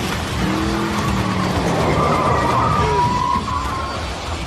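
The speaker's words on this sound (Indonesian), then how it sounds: "Mobil truk si Joe harus berhenti karena tergelincir." A truck skids on spilled oil during a film car race, with a loud, continuous tire squeal and screech over roaring engine noise lasting several seconds.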